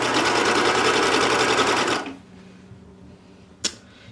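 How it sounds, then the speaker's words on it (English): Sewing machine stitching binding onto a coat along a crease, a rapid loud whirring run for about two seconds that stops abruptly, followed by quiet and a single sharp click. "I'm just going to sew right in that crease line."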